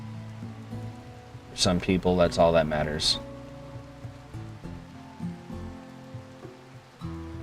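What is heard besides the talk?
rain in video game Rimworld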